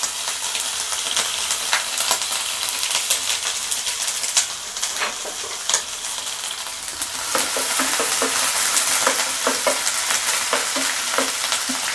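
Ginger fries in a pan with curry leaves for a prawn roast, crackling in a busy, close sizzle, with a utensil stirring and scraping and occasional light taps throughout.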